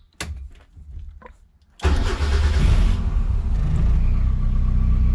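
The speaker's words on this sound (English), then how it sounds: "Let's start the car." A car engine cranks briefly and catches, then roars loudly and settles into a steady, rumbling idle close by.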